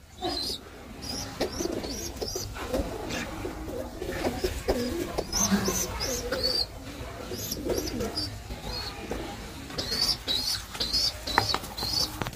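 Pigeon chicks being hand-fed make soft, high squeaky cheeps in repeated bursts close by, over faint handling and shuffling noises.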